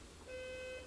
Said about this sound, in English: And my alarm clock is going off.